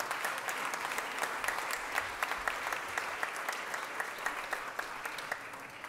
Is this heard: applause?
yes